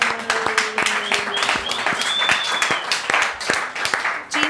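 Audience applause with dense, sustained clapping that carries steadily across the whole stretch at moderate loudness, briefly swelling and dipping, with a hint of voices under it.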